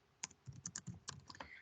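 Quick typing on a computer keyboard while entering contacts into a database program, a dozen or so irregular close clicks and key taps, fairly quiet, with no talk.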